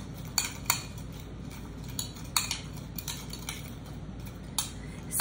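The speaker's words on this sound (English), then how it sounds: "I'm just gonna stir it like cereal." A spoon stirs chamoy-coated watermelon Sour Patch candy in a bowl, making light, irregular metallic clinks and scrapes close by over a quiet background hum.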